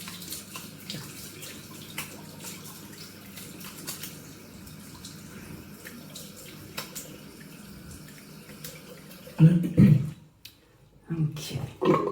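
Cold tap water runs into a bowl at a shaving sink, a steady soft rush that lasts several seconds, followed near the end by louder clunks and splashes.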